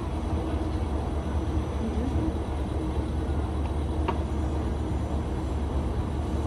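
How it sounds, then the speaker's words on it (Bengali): A continuous low rumble of a train pulling into a station fills the scene, steady and fairly loud, with a faint brief squeal partway through and no voices. "এই যে এখন ট্রেন আসছে, ট্রেনে উঠবো।"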